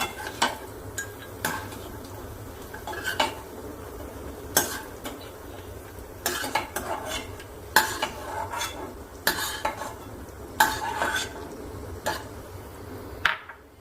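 Cashews fried in a pan until lightly golden are scooped out with a spoon: sharp metallic clinks and scrapes recur at an irregular pace over a soft background hiss of frying.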